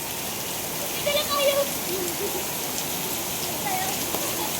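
Heavy rain falls in a steady, dense hiss close by, with faint voices speaking briefly over the downpour.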